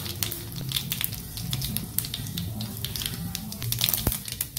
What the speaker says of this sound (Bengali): এবার এই তেলে আমি একটু সর্ষে ফোড়ন দিচ্ছি।